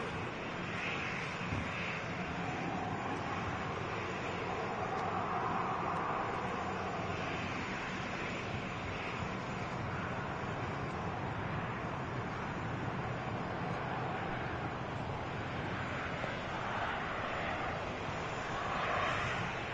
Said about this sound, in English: we had the Sky Team Special touching down as well with KLM